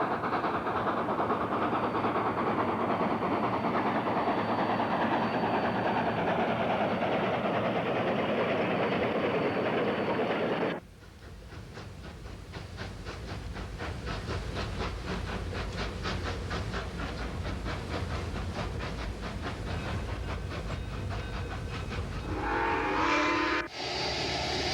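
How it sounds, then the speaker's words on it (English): A steam train on the Rio Grande Southern railroad runs toward Telluride in 1949, first a loud steady rush and roar, then a rapid rhythmic chuffing and clatter of wheels that continues to the end, with a brief whistle-like burst near the close. "By steam to Telluride, overnight there, on to Lizard Head the next day"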